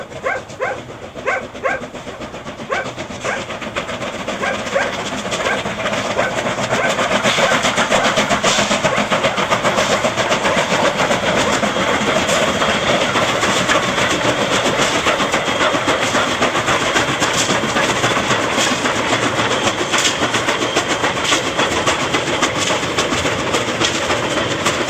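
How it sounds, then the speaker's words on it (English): A westbound train crossing a valley near a settlement in China in 2002 builds from a few distant chuffs into a loud, continuous rumbling roar that holds steady and close for the rest of the passage. "a westbound train at the extreme end of the Rishui settlement"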